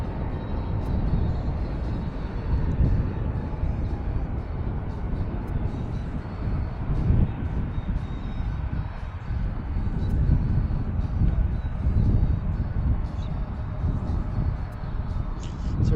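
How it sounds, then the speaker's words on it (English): Delta Boeing 737-800 airliner taxiing out to the runway at Washington National Airport, a steady broad jet engine rumble and roar holding fairly loud for the whole stretch, with faint wind and background noise. "we have Delta coming out to the runway"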